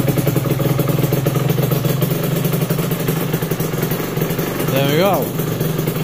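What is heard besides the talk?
Aprilia RS125 motorcycle engine starting and running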